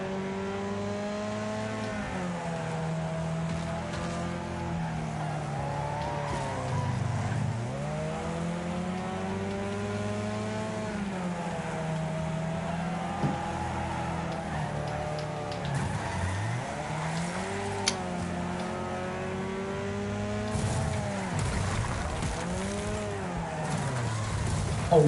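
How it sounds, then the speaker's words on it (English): Engines roar and tires squeal as cars race a figure 8 track in Wreckfest, revs rising and falling steadily with occasional sharp knocks of contact, mid-distance and fairly even in loudness throughout. "I just got 17 cars crashed into me there"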